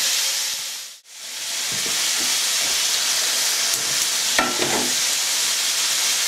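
Food frying in a pan on a home stove ahead of cooking an egg in olive oil, with a steady broadband sizzle and hiss throughout, a short dip in the noise, and a few faint clinks and stirring scrapes.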